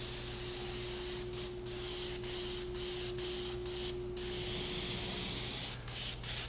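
Spray gun hazing tiny silver micro-metallic paint onto doors, a steady close hiss with a low compressor hum beneath and several short breaks between passes.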